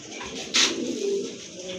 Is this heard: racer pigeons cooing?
yes